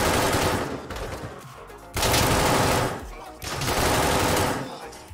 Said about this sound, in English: So along with the 1911, they also added a brand new rifle, the SR16.